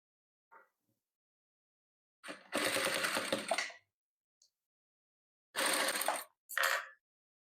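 A sewing machine stitches quilt rows together for a patchwork quilt. It runs in close, clear bursts: a short stutter, a longer steady run, then two more brief runs separated by silence.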